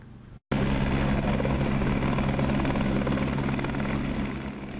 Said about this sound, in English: A chopper landed just a few yards from Stater Brothers, loaded up with the SWAT team, and then went off in search of an armed suspect.